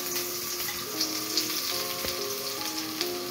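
Garlic sautés in butter and oil inside a wok, a steady close sizzle with faint scraping stirs throughout, no voices.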